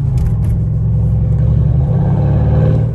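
Car exhaust with the valve open, a loud, deep and steady burbling rumble idling close by for a few seconds with no talk.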